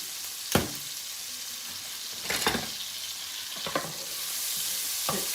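Garlic and onions sizzle in a hot pan with a steady frying hiss, broken by a few sharp stirring scrapes and clatters spaced through the stretch.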